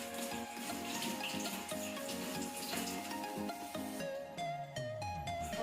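Hands rinsed under a running tap in a basic nursing-skills handwashing practical, with a steady, fairly quiet stream of water splashing continuously throughout.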